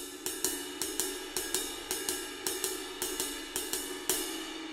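Drum shuffle groove in swung eighth notes, with cymbal strikes falling in a long-short lilting pattern, sounding close and steady across several bars with no voices.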